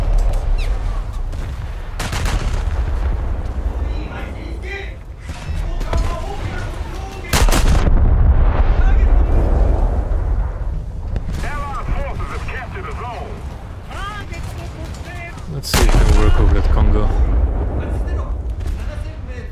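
Battleship 16-inch guns firing in a naval video game, several heavy booming salvos with long rumbling tails spread across the stretch, loud and close, with other explosions and low chatter in between.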